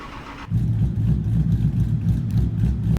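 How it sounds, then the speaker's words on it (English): A 1000-horsepower V10 drag truck engine fires up and settles into a loud, lumpy, rumbling idle close by, with a slight blip near the end. "Let's go ahead and take a quick listen to the truck."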